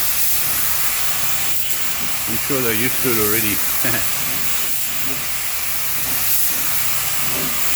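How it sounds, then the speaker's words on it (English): A continuous spray hiss runs throughout while a person talks briefly over it, the spraying steady and fairly close, as parts for a 1938 SS Jaguar 3½ Drophead are spray painted outdoors. "The neighbors will love us with the spray painting"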